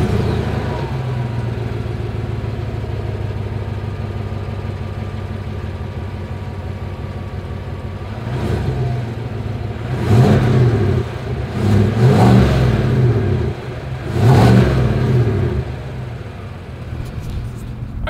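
A 2021 Chevrolet Suburban's large engine idles with a steady low rumble, then revs up several times in deep throaty bursts through the dual exhaust before settling back to idle.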